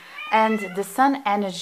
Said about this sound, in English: sorry about my cat, he's here, and he is very communicative